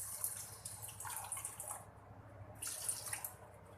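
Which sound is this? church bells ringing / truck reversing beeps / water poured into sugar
water poured into sugar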